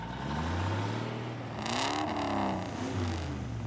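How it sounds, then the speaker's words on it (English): The engine of a cartoon truck runs with a low rumbling drone that rises and wavers in pitch, with a brief whirring, clattery swell in the middle; no talking. "Chuck, something wrong with your engine?"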